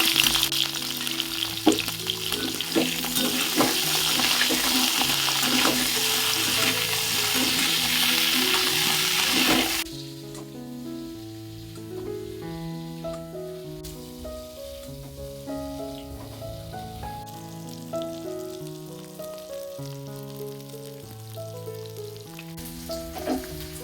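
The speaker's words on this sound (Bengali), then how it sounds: "দেখো, উচ্ছেগুলো লালচে করে ভেজে নিয়েছি।" Bitter gourd pieces fry in hot oil in a pan with salt and turmeric, a loud, dense, continuous sizzle for about ten seconds before it drops away, leaving quieter background music.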